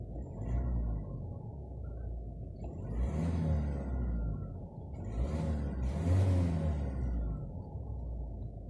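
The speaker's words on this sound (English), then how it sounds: "But it's a good sounding diesel engine in my opinion." A 2016 Ford Grand C-Max diesel engine idles warm with a steady low rumble, then revs up twice in short bursts before settling back, close and fairly loud.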